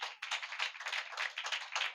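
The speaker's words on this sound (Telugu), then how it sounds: "చప్పట్లు కొట్టు" Church congregation clapping hands in steady rhythmic rounds, moderately loud and sharp, continuing without pause and with no talk over it.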